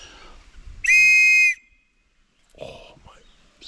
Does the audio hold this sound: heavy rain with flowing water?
no